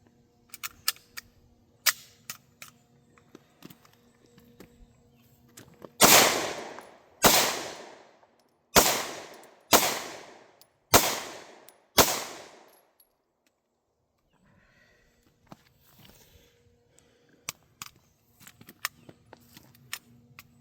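Six sharp gunshots from a Hi-Point C9 pistol ring out at a slow, uneven pace, each loud crack trailing into a long outdoor echo, with faint clicks and handling noises before and after.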